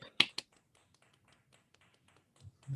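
Remote audience applause over a video call, a few sharp claps near the start, then faint scattered taps and a soft swell of clapping at the end, thin and compressed.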